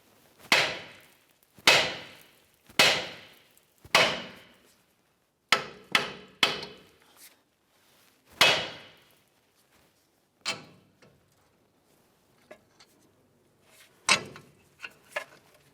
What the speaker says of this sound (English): we're going to give this area a couple loving bonks to try to break the outer tie rod end free from the knuckle